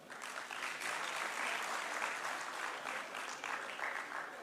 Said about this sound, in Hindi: उन सबसे गुजारिश है कि उस अहमद शाह के लिए तालियां बजाएं।